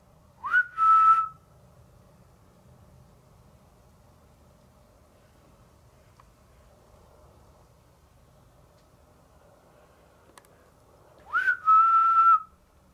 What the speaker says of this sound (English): On the count of three, can you whistle?